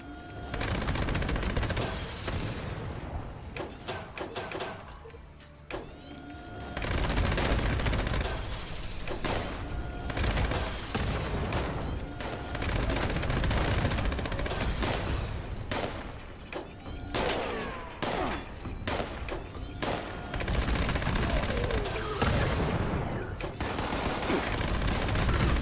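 Rapid, sustained gunfire from a weapon in Fallout 76, loud and continuous over about 25 seconds with mechanical clatter, a short lull partway through, and occasional talk beneath the shooting.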